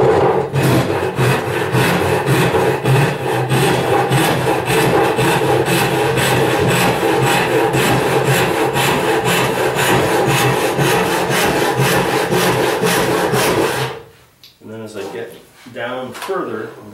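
A hand saw cuts through wood in rapid, even rhythmic strokes, loud and close for about fourteen seconds, then stops and someone speaks.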